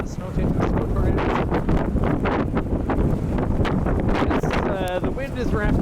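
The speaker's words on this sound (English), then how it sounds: "The wind is ramping up now." Strong, steady wind roars and buffets the microphone during a snowstorm in downtown Regina, a constant loud rush with no letup.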